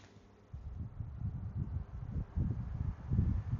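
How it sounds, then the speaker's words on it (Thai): Steady low rumbling airflow from a nearby electric fan, starting after a brief quiet moment, with fluttering buffeting gusts and faint fabric rustle, recorded on a DJI Mic Mini wireless microphone without noise cancellation. "ตอนนี้ก็จะมีลมแล้วก็เสียงพัดลม เสียงลม แล้วก็ เสียงของผ้านะครับ"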